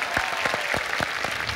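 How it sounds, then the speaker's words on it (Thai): Studio audience applauding on a Thai television code-breaking game show, a dense steady clatter of many hands that fills the whole moment with no voices over it. "ขอเสียงปรบมือดังๆ"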